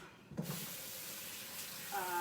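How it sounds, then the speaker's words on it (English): Wild rice being rinsed under a running kitchen tap, a steady close wash of water with a brief clatter near the start and a rising tone toward the end as the flow changes. "I'm gonna rinse this rice off"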